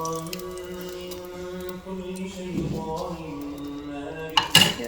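Dishes set down for washing in a home kitchen after making paratha, with soft clinks of plates and cutlery and a louder clatter near the end, faint background hum throughout.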